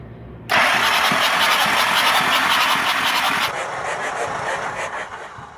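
A Hino diesel truck engine cranks and fires up with a sudden loud start, then revs hard and steady before easing to a slightly lower roar, close by with no talk over it.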